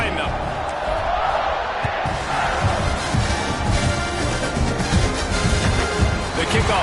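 A college football stadium crowd roars just before kickoff against Ohio State, a loud, continuous wash of cheering and noise with an announcer talking over it.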